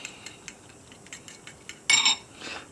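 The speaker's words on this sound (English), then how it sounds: "Fork for stirring." A fork stirring flour in a bowl, light rhythmic clinks and taps of metal on the dish, then a brief louder scraping rattle, close and quiet.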